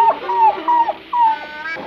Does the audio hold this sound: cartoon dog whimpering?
yes